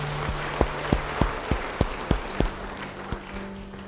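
A church congregation claps in a worship service, a short run of evenly spaced, fairly close single claps that thin out toward the end over a faint sustained tone.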